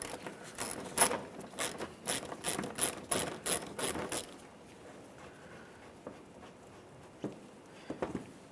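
A ratchet fitted with a 10mm socket removes the front bumper cover mounting hardware on a 2007-2013 Acura MDX, giving a close run of rapid clicking strokes, then a pause and a few scattered clicks.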